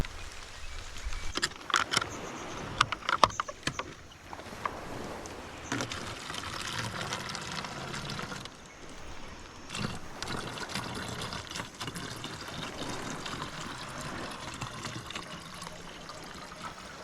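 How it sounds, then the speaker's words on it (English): Fresh water, collected in a forest on a desert island after rain, trickling and splashing as it is poured into a lidded bottle, steady and close with some clinks and rattles, no voices. "And now it needs to be poured into a bottle with a lid."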